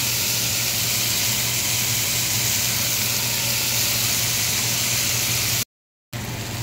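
Onion, tomato and garlic frying in a pan, a loud, steady close hiss of sizzling that runs continuously and cuts out briefly near the end before resuming.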